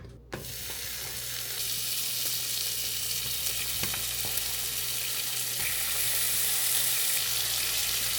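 Thick cut bacon frying in a pan without oil, a steady, dense sizzle and crackle close by with a few sharper pops, continuous throughout with no talking.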